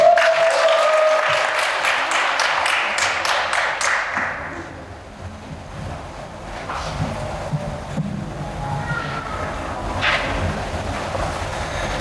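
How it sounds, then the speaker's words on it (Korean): Audience applause at a Hangul Day speech contest welcoming the next presenter, a dense burst of clapping at the start that fades within a few seconds, leaving a quiet room. "박수 맞이해주세요"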